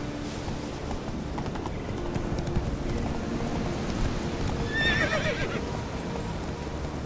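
Roach, a horse in the video game The Witcher 3, gallops with a steady rapid clip-clop of hooves and lets out a brief whinny midway, over a windy outdoor background.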